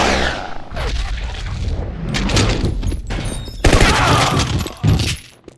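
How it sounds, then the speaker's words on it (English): Gunfire in the video game Max Payne 2 as a loud volley of booming shots and crashes, with bursts separated by short gaps, ending in sharper blasts. "Someone must have heard the gunfire."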